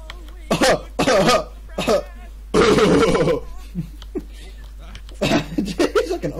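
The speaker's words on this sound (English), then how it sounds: "It's like an old man's cough." Several rough, raspy coughs come in short bursts with pauses between, interspersed with bits of talk and a chuckle.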